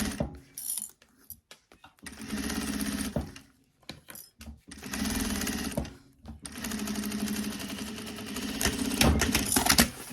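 A sewing machine stitches a fabric bag with a quarter-inch seam, running in loud mechanical bursts separated by brief pauses.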